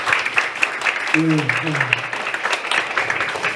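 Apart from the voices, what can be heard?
audience applause welcoming Seoul mayor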